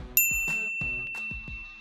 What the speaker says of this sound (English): ring the bell to be notified about our latest